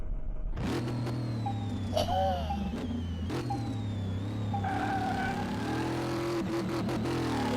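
A Dodge Charger engine in Car Mechanic Simulator starts up and revs repeatedly, its pitch climbing and dropping through gear shifts, loud and steady with no talking.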